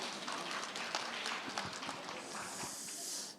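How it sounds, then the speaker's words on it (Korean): Audience applause rises at a geopark educational-materials contest, a brisk dense patter of clapping that holds steady for a few seconds and then fades out at the end. "박수로 시작해 보도록 하겠습니다."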